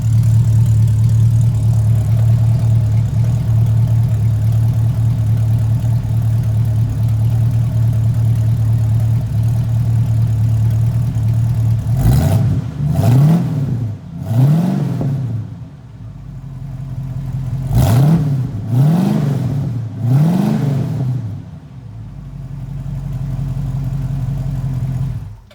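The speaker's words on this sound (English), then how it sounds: "I'm going to fire it up and let you hear it running." A 1966 Ford Mustang Coupe engine with a mild exhaust idles with a steady low rumble, then revs up sharply several times in quick bursts before settling back to idle.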